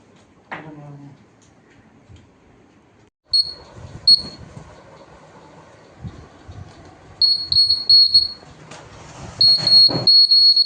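A buzzer in a child's school project, powered by a 9 volt HIW battery, gives shrill, close electronic beeps in short bursts and longer stretches, with handling clatter in between.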